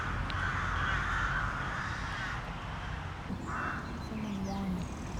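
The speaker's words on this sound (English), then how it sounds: "Varno ir šarkų kova." Crows and magpies squabble outdoors with harsh, rasping caws and chatter over a steady noisy background, and a voice can be heard faintly.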